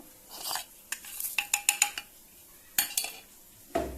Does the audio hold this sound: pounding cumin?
yes